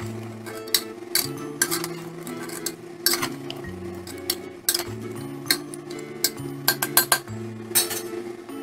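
Mutton curry with tomatoes stirred in a pot, with frequent sharp clinks and scrapes of a spoon against metal over a low steady hum; no talking.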